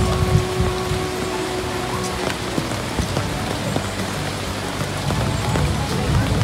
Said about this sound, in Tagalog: nalalakas kasi ng ulan. Naulan kasi. Nabot kami ng ulan.